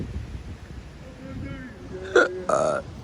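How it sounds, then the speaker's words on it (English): Two short, loud, voiced burps from a man come close together near the end, following a stretch of quiet murmuring outdoors. "I just burped up nothing but air"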